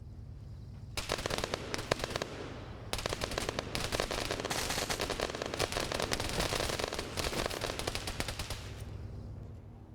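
Sustained bursts of rapid automatic cannon fire from a ZU anti-aircraft gun in a night-time military video game, loud and continuous across several long volleys with brief gaps between them, no talking.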